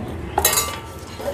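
Metal utensils clink and scrape against a bowl while tossing a spicy Thai salad of pork sausage and salted egg. A couple of sharp clinks sit over a soft background stir.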